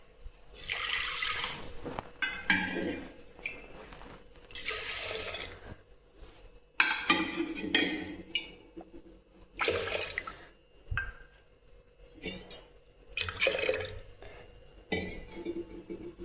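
Water is poured onto toor dal (pigeon pea lentils) in several separate splashing bursts, with short quiet gaps between each pour.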